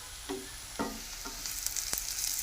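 Onions stirred in a hot pan with turmeric and ginger-garlic paste, a few spoon scrapes over a continuous sizzle that grows brighter toward the end, close and moderately loud.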